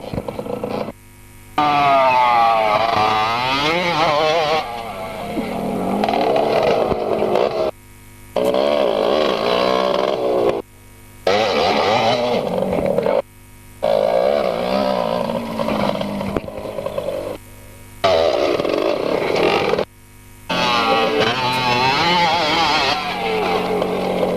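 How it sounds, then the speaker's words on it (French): Motorcycle engines at a race final held at Labarthe-Chiron, droning and revving loudly in long sustained bursts broken by several short gaps, with no talk over them. "nous allons assister à la finale moto"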